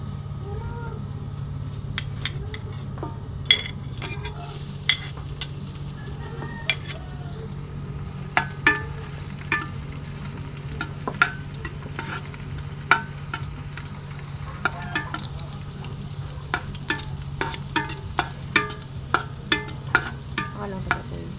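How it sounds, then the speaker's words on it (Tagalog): Chicken adobo sautéing in a pressure cooker gives a steady, close sizzle under a low hum, broken by scattered sharp clicks and scrapes of a stirring utensil against the pot. "Isasalang na po natin yung pressure cooker at akin na pong igigisa."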